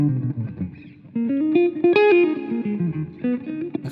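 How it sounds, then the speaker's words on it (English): Guitar notes ring through a Lexicon 224 digital reverb whose tail is dirtied with mode enhancement and pitch shifting, giving a shimmering, slightly detuned wash that swells and decays between the phrases. "Let's try dirtying up the tail with some mode enhancement amount and some pitch shifting."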